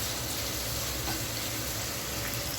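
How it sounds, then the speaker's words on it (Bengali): A continuous, loud crackling sizzle of onions frying in a frying pan, close up, with faint scraping as they are stirred and no speech. "পেঁয়াজটা ভালো করে নেড়ে চেড়ে নিচ্ছি"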